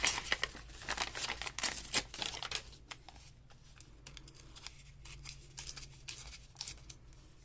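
A sheet of dyed graph paper is torn out of a pad, giving crisp crinkling and tearing bursts in the first couple of seconds, followed by quieter paper rustling and handling.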